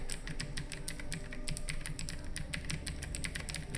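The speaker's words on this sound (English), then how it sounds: "Oh, Zeb, we're talking about how clicky keyboards are awful." Rapid, steady clacking of a clicky mechanical computer keyboard being typed on, dense keystrokes continuing throughout, fairly close but moderate in level with no talking over it.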